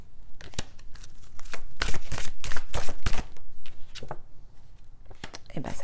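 Oracle cards shuffled and handled by hand, close and crisp with irregular flicks, riffles and slaps in short bursts, while someone talks over them.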